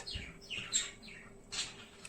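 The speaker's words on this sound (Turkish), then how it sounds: "kuşların sesi biraz fazla gelebilir ama yapacak bir şey yok" Birds chirp in short, bright bursts, several quick tweets spread across the moment, moderately close against a quiet outdoor background.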